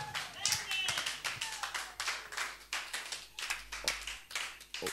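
Church congregation clapping in praise during an evening worship service, a fairly steady stream of rhythmic hand claps, moderately quiet and roomy, with voices faintly mixed in.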